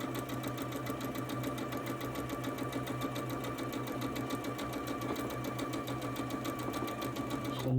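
A sewing machine runs continuously while stitching a long seam on a quilt, giving a fast, even mechanical whirr and rapid needle chatter that stays steady and fairly quiet throughout, with no talking.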